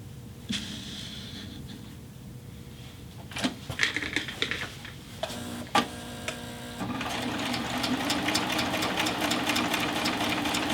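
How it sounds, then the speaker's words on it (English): A Baby Lock Triumph serger runs fabric through at a quarter-inch width setting, starting with a few scattered clicks and handling noises before settling into a steady, close mechanical whir of rapid stitching. "You see how it keeps it perfectly aligned as it moves through the serger."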